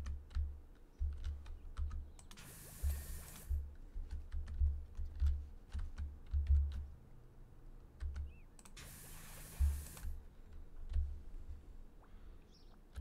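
Computer keyboard typing comes in uneven bursts of clicky keystrokes, close and steady throughout, with two brief louder rushing noises partway through and faint background sounds.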